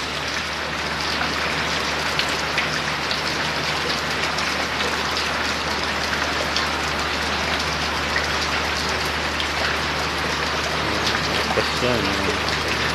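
Heavy rain from Typhoon Ulysses (Vamco) pours steadily in the Philippines, a dense, constant hiss of drops on surfaces with a low rumble beneath, unbroken throughout.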